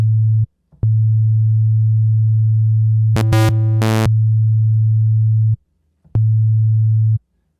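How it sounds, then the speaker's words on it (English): A Serum synthesizer in Ableton plays a pure, steady low sine tone, held loud and interrupted by two short gaps, with a brief burst of buzzy, harmonic-rich tones in the middle. "now it's in a sine wave."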